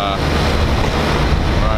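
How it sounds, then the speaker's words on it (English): Water rushing and washing out beside a seafood processing plant on the Newport, Oregon waterfront, a steady broadband wash with wind buffeting the microphone, loud and continuous. "You can see all the water washing out there."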